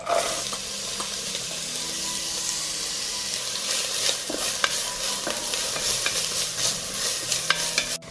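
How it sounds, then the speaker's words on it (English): Chopped onions sizzle steadily in hot olive oil in a pan, a dense close hiss with occasional stirring scrapes and small crackles. "I add onions to the heated oil."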